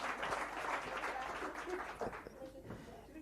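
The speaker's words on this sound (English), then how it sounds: "One more time, a round of applause to our panelists." Workshop audience at a sustainable business practices expo claps for the panelists, a steady, moderately distant round of applause that thins toward the end, with a voice speaking faintly over it.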